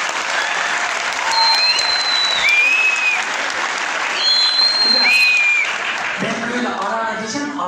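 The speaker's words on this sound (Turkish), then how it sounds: "Bu imkanı sağlayan belediyemize kocaman bir alkış istiyoruz" A crowd at a municipal event applauds in a continuous, steady wash of clapping. High whistling tones float over it, and a voice emerges near the end.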